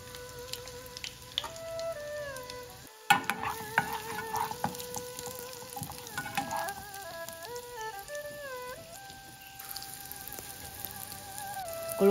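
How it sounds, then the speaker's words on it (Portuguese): Salt and garlic frying in a pan for rice on a farm kitchen stove, a soft steady sizzle and crackle heard close up, with background musical tones running throughout and no talking. "Coloquei o sal com alho, deixei fritar um pouquinho"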